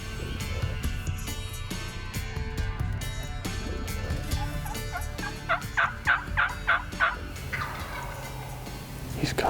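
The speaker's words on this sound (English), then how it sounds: "He's gobbling like crazy," A wild turkey gobbler gobbles repeatedly during a spring turkey hunt, a run of about six loud, rattling gobbles in quick succession over steady outdoor background noise.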